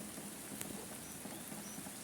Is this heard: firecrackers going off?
no